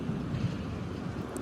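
Wind on a very windy day buffets the microphone in a brief, low, steady rush with no voices.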